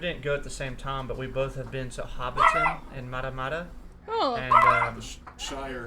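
A chihuahua yips, whimpers and barks in short bursts in the background while it eats, with two sharper cries standing out above a steady two-person conversation that runs throughout.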